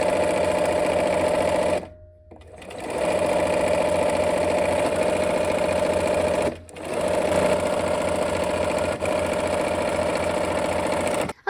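A sewing machine stitching quilt rows runs with a loud, steady, fast mechanical hum. It stops briefly twice, then starts up again.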